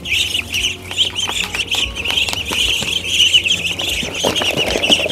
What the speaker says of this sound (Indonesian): entok-entok saya ini jenisnya entok dragon